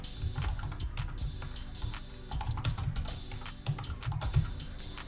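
A menu name is typed on a computer keyboard in rapid bursts of close, crisp keystrokes with brief pauses between them, heard alone without talk.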